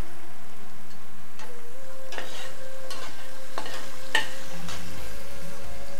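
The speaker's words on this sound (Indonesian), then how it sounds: "kemudian kembali diaduk. Kemudian kita masukkan tomato paste agar supaya warnanya bagus." A spoon stirs a sauce of tomato paste in a frying pan, giving soft scraping strokes and light taps over a steady low sizzle, with no voices.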